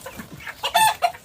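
Six-toed cotton ball chickens give a short burst of clucking calls, close and fairly loud, with a couple of sharp, higher notes at the end.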